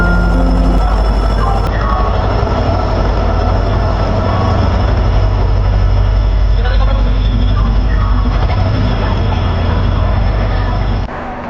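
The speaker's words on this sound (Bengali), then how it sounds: "হাওড়া চেন্নাই মেল অলরেডি প্ল্যাটফর্মে দিয়ে দিয়েছে।" The Howrah–Chennai Mail, a long-distance express train, stands at a station platform, giving a loud, steady low rumble and hum of idling rail equipment that runs throughout, with station bustle around it.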